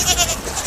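A cartoon goat bleats as it is swept along in water, a single short bleat heard up close.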